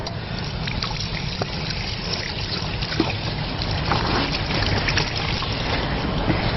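Steady water trickling and splashing while a wound is rinsed during lab safety first aid, a continuous close, even flow with no talking.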